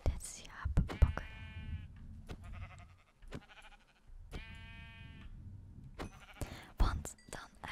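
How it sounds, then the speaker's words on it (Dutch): Sheep bleating in the video game Minecraft, several wavering bleats repeating across the clip, close and clear, with soft whispered speech and small clicks in between. "ik moet dit schaap pakken."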